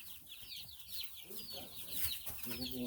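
Chickens in a spring backyard coop clucking softly and fairly close, scattered short calls with a brief flutter, faint and low in level with a quiet voice in the background.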